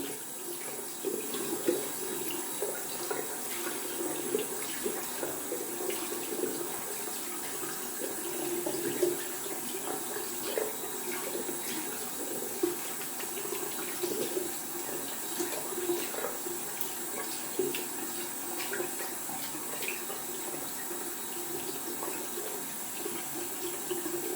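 Tap water runs steadily into a sink while a shaving brush is rinsed, a continuous close splashing hiss with small fluctuations as the brush moves through the stream, and no talking.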